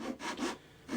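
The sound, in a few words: Zona saw cutting plywood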